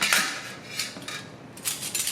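Silverware is set onto a metal plate inside a non-metallic bucket for cleaning, giving several sharp metallic clinks and clatters spaced irregularly, close and moderately loud.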